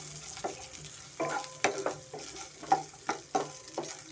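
Green chillies fry in a pan for a village-style mutton curry, a soft, steady sizzle broken by periodic scraping strokes of a spoon stirring, fairly quiet and close with no talk.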